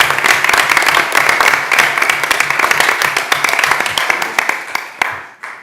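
A room at a Branson city Board of Aldermen meeting breaks into dense, loud applause that holds steady and then thins out to a few final claps, with some voices mixed in.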